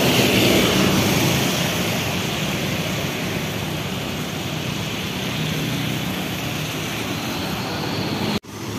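Bus passing by a terminal entrance, a loud broadband rumble and road roar that starts strongest and fades gradually, with a sharp knock near the end.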